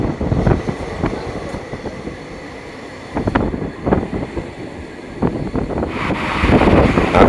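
Lalgola–Kolkata Hazarduari Express passenger train moving at speed, a steady rolling rumble with rattling clacks and bursts of wind buffeting, heard from on board with no talking.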